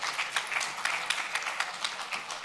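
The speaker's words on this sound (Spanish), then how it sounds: "les pido un aplauso" Audience applause greets a guest being welcomed onstage at a live radio and television interview event, a steady, fairly faint wash of many hands clapping with no talk over it.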